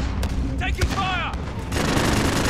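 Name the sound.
gunfire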